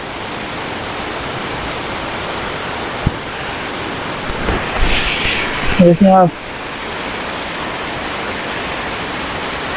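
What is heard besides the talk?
waterfall below a glacier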